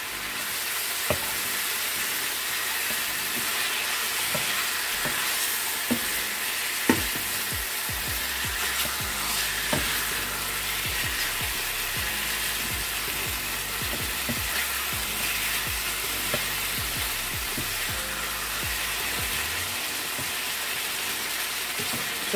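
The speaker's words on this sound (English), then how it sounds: "Gonna be browning this chicken for a while, maybe for 20 minutes" Chicken pieces for brown stew chicken browning in a pot over medium heat, a steady dense sizzle with scattered crackles and pops running throughout, close and fairly loud, no voices.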